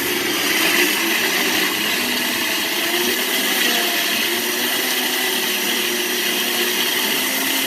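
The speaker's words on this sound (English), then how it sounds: "So I'm going to blend this." A blender purées tomatoes and crayfish, running loud and close, a constant high whirring roar that churns evenly with no pauses throughout.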